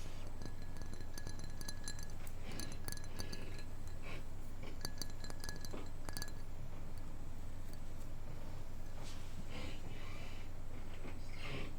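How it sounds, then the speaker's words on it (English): Repeated light tapping on a filled cocktail glass holding Chambord and lemonade, close and bright, with irregular clinks and ticks in clusters over a steady low background hum. "The filled glass is very different from an empty glass."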